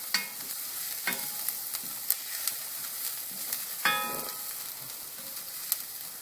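Turkey chili being stirred in a pot as chili powder goes in, a steady low sizzle broken by several sharp spoon scrapes and clinks, one louder scrape near the end, with no talking.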